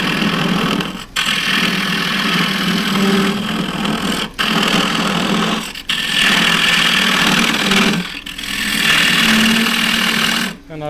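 Square end scraper cutting inside a wooden bark-rim bowl on a lathe: a continuous loud whirring, grinding rasp with brief breaks about every few seconds as the tool lifts off the spinning wood.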